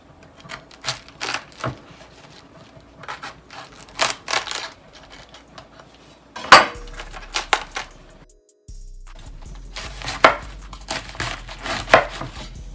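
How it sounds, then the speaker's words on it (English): A knife cuts the core out of a cabbage with a series of crisp, close chopping and crunching strokes, some in quick clusters, separated by short pauses. "Time to work on our lovely cabbage. Just going to take the core off, just like that."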